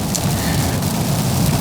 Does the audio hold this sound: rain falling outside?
yes